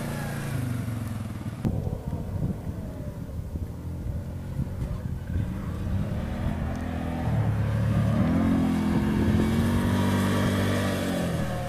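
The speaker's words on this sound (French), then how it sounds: "le quad c'est vraiment l'engin idéal pour le sable" A quad bike rides across the sand dunes of Erg Chebbi, its engine droning loud and steady with rising revs and wind noise, close and continuous throughout.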